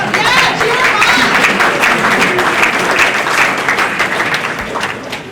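A large audience at a 2019 fall orientation applauds and cheers for the faculty and staff, a loud, continuous wash of clapping and crowd voices that eases off slightly toward the end.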